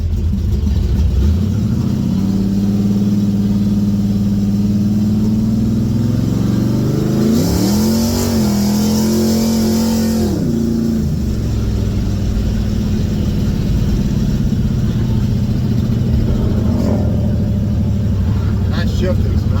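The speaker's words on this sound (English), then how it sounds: "I gotta do some fine tuning this carburetor. It's definitely running rich right now at idle." A Chevrolet Vega engine running rich, with the carburetor being fine-tuned, revs up and down over a steady engine drone, with one sustained higher rev in the middle. The engine is heard close and loud throughout.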